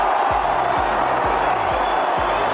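A large racecourse crowd at the Grand National murmurs and hums as a steady distant roar before the start, with a few faint cheers rising over the wash of noise.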